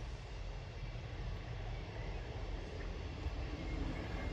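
A steady, broad rumbling roar of a train passing nearby at Rauceby station, continuous and fairly even throughout.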